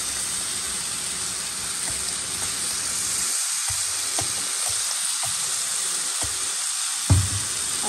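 Pasta chips being stirred with ketchup and sauce in a hot pan, a loud continuous sizzle with occasional scraping strokes and a clank of the spoon near the end, close up.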